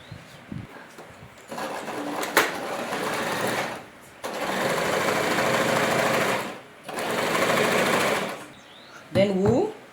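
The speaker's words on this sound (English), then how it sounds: "Then we'll sew the dart for the back panel." A sewing machine stitches a dart on a pencil skirt in three steady bursts of about two seconds each, separated by short pauses, loud and close, with a brief spoken moment near the end.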